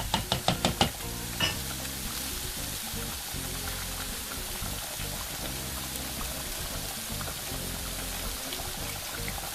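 Dal cooking in a pan with lentils, peppers and paneer, stirred with a utensil: a few sharp scraping knocks at the start, then a steady bubbling simmer and sizzle with soft intermittent stirring sounds, close and continuous.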